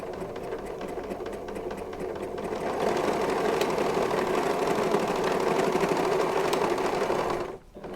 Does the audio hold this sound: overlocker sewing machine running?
yes